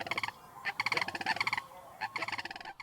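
Sandhill crane and great blue heron calls: loud, rolling, trumpeting bursts with rich harmonics, coming in three clustered runs with short gaps between them, and no talk.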